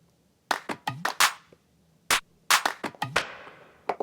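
A trap clap sample on an MPC Key 61 fires in a sparse rhythmic pattern, a dozen or so sharp, dry, punchy hits separated by short gaps of near silence, close and crisp with no voices.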